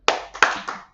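Two loud, sharp hand claps from a crowd at a live broadcast event, with a second pair of quieter claps trailing right after.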